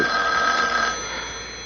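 An old telephone bell ringing loudly and steadily for about a second, then stopping and leaving a lingering hum.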